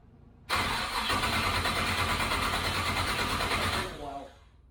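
A car engine cranks and catches after a fuel system repair, then runs loud and steady close by for about three seconds before dying down, with brief voices near the end.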